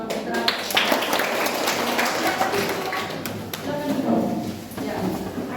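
A classroom of students claps in a rhythmic pattern, the dense claps and taps coming close and loud while a voice talks over them.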